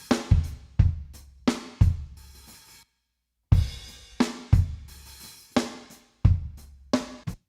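A snare drum cracks in sharp, repeated hits inside a full band mix, a steady rhythmic pattern with a brief gap partway through, close and punchy.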